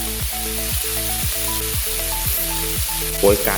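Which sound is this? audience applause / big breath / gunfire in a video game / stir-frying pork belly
stir-frying pork belly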